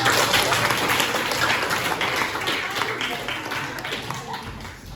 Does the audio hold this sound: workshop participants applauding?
yes